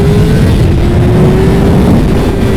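A loud, steady engine roar holds a constant high pitch throughout, a 2019 Honda CBR600RR sport motorcycle exhaust droning at sustained high revs with no talking.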